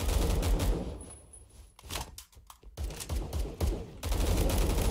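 An M60 machine gun fires in the online shooter Phantom Forces, letting off loud, close bursts with a short lull of scattered shots in the middle.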